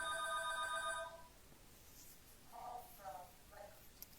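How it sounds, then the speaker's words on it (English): A mobile phone ringtone trills loudly for about a second, then stops, followed by a few softer, lower-pitched tones; no talking is heard. "My phone ringing."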